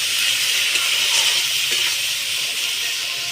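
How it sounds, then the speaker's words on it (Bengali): Ginger and chili paste, chili powder and other spices fry in a pan, giving a loud, steady sizzling hiss that holds throughout without a break. "লঙ্কার গুঁড়ো, সব মশলাগুলো আমি একসাথে ভালো করে কষিয়ে নেব।"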